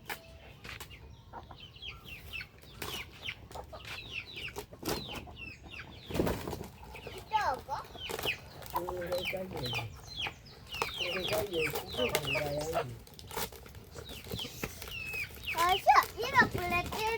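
Chickens clucking and a rooster in an African village yard, with brief wing flaps, close and steady under children's voices and adult talk.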